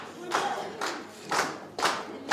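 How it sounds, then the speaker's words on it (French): Employees clapping at a ceremony distributing bonds for Africa's largest hydroelectric dam, built with Ethiopian public funding, four short, moderately distant bursts of applause separated by brief pauses. "Les employés sont appelés un par un et applaudis par les autres."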